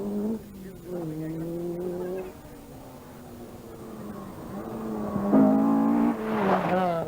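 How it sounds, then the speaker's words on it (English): A rally car on the 1982 Circuit of Munster Rally brakes late and reverses, its engine revving up and down in shifting tones with some tyre noise, loud and fairly close, with no talk over it. "A bit of late braking from Bertie Law."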